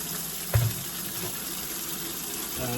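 Hot water running steadily from a tap into a bucket for mopping vinyl floors, a constant broadband gush with a brief louder splash near the start.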